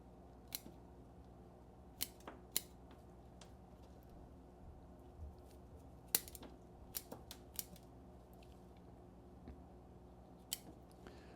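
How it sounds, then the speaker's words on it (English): Pruning shears snip through moist, paper-thin sections of dying wood on a China Doll bonsai forest, a series of sharp, crisp clicks scattered irregularly over a quiet background, close and distinct. "I'm cutting through some really super moist, paper thin sections of what was probably the dying tree in here"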